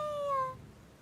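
A single kitten meow in the fantasy video game Wildermyth, a short high-pitched falling cry, fairly faint and alone.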